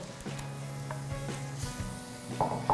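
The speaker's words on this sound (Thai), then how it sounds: "น้ำกะทิของเราเริ่มเดือดแล้วนะคะ" Coconut milk simmering in a pot for Thai bananas in coconut milk, with boiled bananas added; a low, steady bubbling and soft sizzle with a few light knocks, fairly quiet and with no talking.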